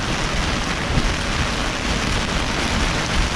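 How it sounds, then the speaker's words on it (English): Rain from a severe squall hammering down hard and close on a boat at sea, a loud continuous roar of drops with no breaks and no talking. "Keep on getting battered by rain."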